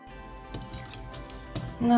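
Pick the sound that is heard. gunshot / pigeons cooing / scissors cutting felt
scissors cutting felt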